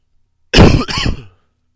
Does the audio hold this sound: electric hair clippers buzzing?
no